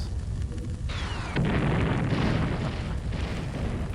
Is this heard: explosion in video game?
yes